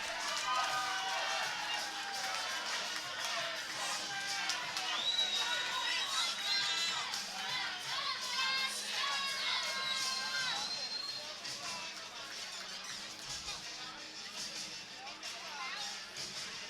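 An arena crowd at a championship MMA fight roars and cheers steadily throughout, a dense, loud wash of many voices with shouts and whistles rising over it, easing slightly toward the end.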